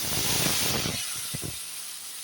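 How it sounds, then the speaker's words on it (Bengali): A spice paste of cumin and dried chilli hits a hot pan with a loud burst of hissing steam that fades within a second into a quieter, steady sizzle. It is cooking for a jackfruit and chickpea dish. "এখন আমি এখানে মশলা পেস্ট দিয়ে দেবো এখানে আছে জিরে শুকনো লঙ্কা"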